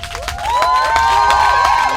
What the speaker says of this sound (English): You better give them a better hand clap